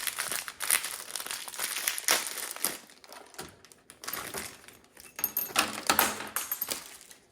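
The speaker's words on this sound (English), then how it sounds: "Little plastic bag." A little plastic bag from the box of a cheap RC monster truck is crinkled and handled up close, with irregular crisp rustling bursts and brief pauses, and no voices.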